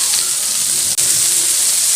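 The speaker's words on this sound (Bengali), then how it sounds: "পটল ভাজি করতে কিন্তু অনেক সময় লাগে" Pointed gourd (potol) frying in a pan on low heat, salted: a steady, close sizzle runs throughout, dipping for an instant near the middle, with no voices.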